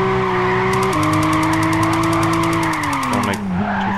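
A Toyota Aristo in Gran Turismo 5 revs hard in third gear, its engine note climbing steadily with a brief lift and gear change near the end, loud and continuous with faint tire noise and no talk.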